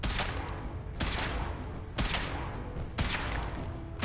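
A weapon being test-fired in the video game Fallout 4 lets off four heavy, evenly spaced shots about a second apart. Each blast is loud and close and trails off into a short rumble.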